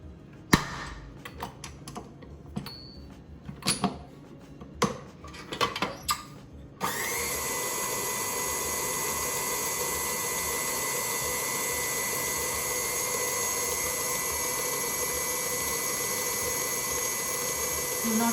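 Lemon cake batter beaten with an electric mixer: a few scattered clatters and knocks, then the mixer starts and runs with a steady, loud, even whir until the end.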